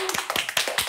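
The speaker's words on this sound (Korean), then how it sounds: "박수로 환영해 주시기 바랍니다." Brief burst of hand clapping from a small group welcoming guests at a church youth prayer gathering, quick scattered claps lasting under a second.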